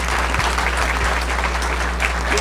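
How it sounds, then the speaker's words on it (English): An audience claps loudly and continuously, a crowd's applause filling the whole stretch without letting up. "so give them a big round of applause."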